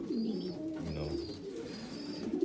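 Young racing pigeons coo softly in a loft, a few low rolling calls close by, with a faint background hum and no talk.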